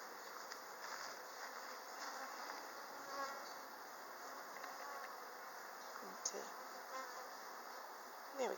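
Honeybees buzzing steadily around an open hive during an April inspection, a soft continuous drone with a few close passes, and a quiet voice speaking occasionally.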